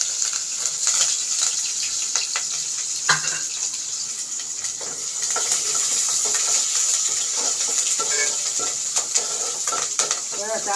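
Cumin seeds and curry leaves crackle and sizzle in hot oil for tempering, a dense continuous frying hiss with small pops and occasional utensil clinks, close by.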